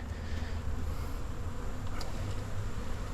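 Honeybee colonies in an early-October apiary hum with a steady, dense buzz, a continuous low drone that holds at an even loudness throughout with a few individual bees passing closer.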